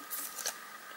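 Scissors snipping a paper flower template cut from patterned craft paper, a few quick close crisp cuts, quiet and isolated.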